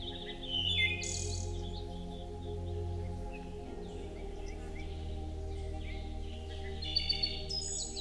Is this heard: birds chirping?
yes